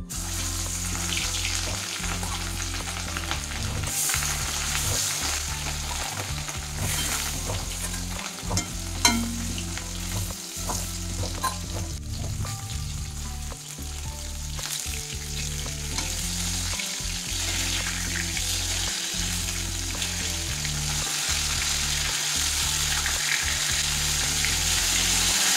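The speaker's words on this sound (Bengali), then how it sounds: "ভালো করে দুই দিক উল্টে পাল্টে লাল করে ভেজে নিচ্ছি আমি মাছগুলো।" Fish pieces frying in hot oil and being turned over, a loud continuous sizzle and crackle with occasional scraping under the hiss, no voices.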